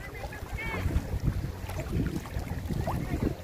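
A fishing boat moves across open sea amid gusty wind noise and a low rumble, with faint voices in the background.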